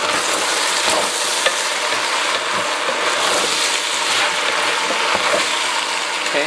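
A whole block of frozen green chili goes into a hot pot for New Mexican green chili stew, filling the space with a loud, steady sizzle and crackle, with faint scraping of stirring mixed in.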